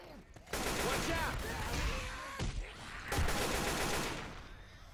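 Gunfire in the video game Left 4 Dead 2 on hard mode, bursts of rapid shots layered over busy game noise, with a player talking over parts of it.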